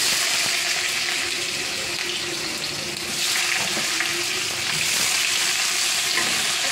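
Chopped potatoes and onions dropped into a hot pan sizzle loudly and steadily, with a brief dip and then a renewed surge of frying noise partway through.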